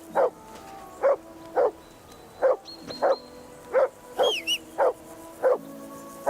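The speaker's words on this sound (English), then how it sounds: "Say something to that dog." A dog in Kingdom Come: Deliverance II barks repeatedly in sharp, evenly spaced yelps, about nine in total, fairly close and loud, with faint whistle-like tones in between.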